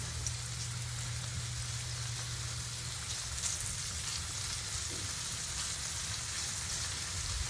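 Andouille sausages fry in a pan, giving a constant crackling sizzle like light rain that holds steady and near throughout, with no voices over it.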